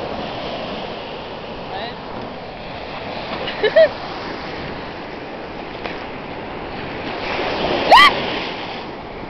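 Ocean waves breaking at a beach make a continuous wash of surf mixed with wind buffeting the microphone, with a few brief voices and a short exclamation near the end.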